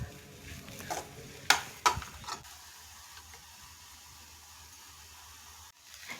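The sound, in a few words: stirring and mixing churumuri avalakki (spiced flattened rice)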